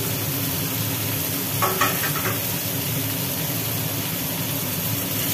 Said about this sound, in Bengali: এখন একটু ভালো করে কষিয়ে নেবো, তারপরে মশলা করে দেবো